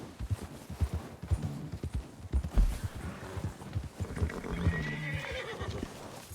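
Horses whinny and neigh close by while hooves clop in an uneven walking rhythm, with a few sharper knocks and snorts scattered through and a longer whinny near the end.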